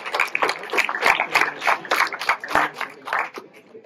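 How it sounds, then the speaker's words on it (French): An audience at a school slam contest at Collège Saint-Julien in Malestroit applauds the accompanying teachers, a dense burst of clapping from many hands that stays close and lively for a few seconds before easing slightly. "on les remercie, on les applaudit tout de suite"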